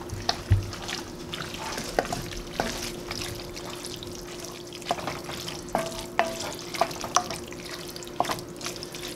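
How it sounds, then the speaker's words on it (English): Chili with tomato sauce is stirred in a pan for a keto tamale pie. Soft wet scraping and light clicks come through quietly and unevenly, with a steady low hum underneath and no voices. "So I'm just gonna stir that around."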